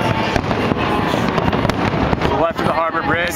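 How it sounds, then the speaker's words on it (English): New Year's Eve fireworks over Sydney Harbour near the Harbour Bridge crackle and bang continuously in a dense, loud barrage, with crowd voices and chatter mixed in. "Fireworks going off."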